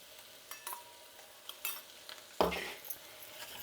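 Spice powder stirred with a spoon into baby potatoes frying in a pan, a few scraping strokes and light clinks over a soft sizzle, closing in one louder burst of sizzling stirring.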